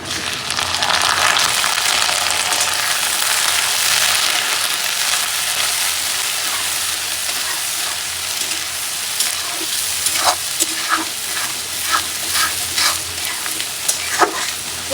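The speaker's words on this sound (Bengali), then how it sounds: "তো এখন হচ্ছে এই যে চিংড়ি মাছগুলো দিয়ে দিলাম" Prawns fry loudly in a pan, a dense continuous sizzle close by, with a run of quick spatula scrapes and taps in the later seconds; no voices.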